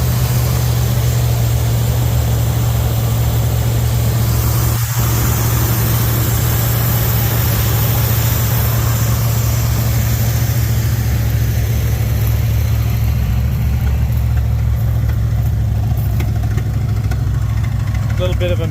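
A 1971 Chevrolet Monte Carlo engine idles with a deep, burbling rumble through Flowmaster mufflers, loud and steady throughout, with one brief sharp knock from a slight misfire partway through.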